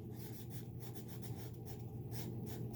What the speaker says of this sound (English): I'm going to write it in there.